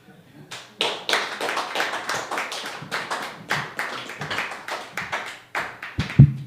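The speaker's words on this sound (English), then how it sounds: "give him one more hand of applause" Audience at an open mic story night clapping for a storyteller, a dense run of hand claps lasting several seconds and continuing steadily, with a louder thump near the end.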